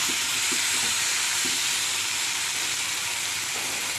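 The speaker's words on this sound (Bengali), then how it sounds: "1 মিনিট হয়ে গেছে, এবার ঢাকাটা খুলব আর নাড়াচাড়া করে নেব।" Prawns sizzling and frying steadily in a pan just after the lid comes off, with a few soft low knocks as the prawns are stirred and chopped onions are about to go in.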